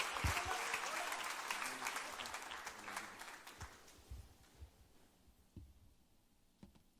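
An audience applauds at an evening gathering as a speaker is welcomed, a burst of clapping with a voice over it at the start that thins out and fades, leaving scattered claps and a few sharp knocks by the end.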